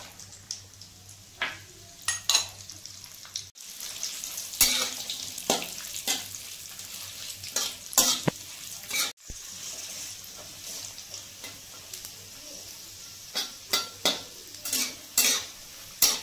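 Cashews and raisins frying in oil for basanti pulao, a continuous crackling sizzle broken by frequent utensil scrapes and clinks against the pan, close and without speech.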